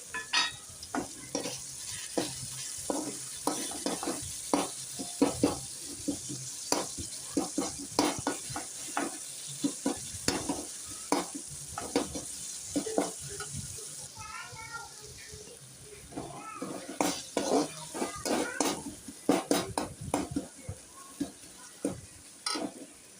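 Tomatoes sautéing in a pan for mutton curry, a continuous sizzle punctuated by frequent sharp scrapes of a spoon stirring, with a brief softer stretch before the stirring picks up again.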